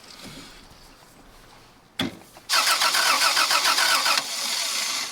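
After a click, a Toyota Land Cruiser FJ60 engine cranks over during a compression test, coil wire off, with a steady rhythmic whirring for about two seconds without catching, followed by a lower hum.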